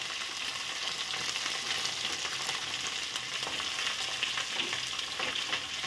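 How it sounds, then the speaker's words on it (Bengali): Vegetables fry in a kadai (wok) with a continuous hot sizzle and crackle, close and steady throughout, with no talking. "সবজিগুলো এক এক করে আমি দিয়ে দেব কড়াইতে"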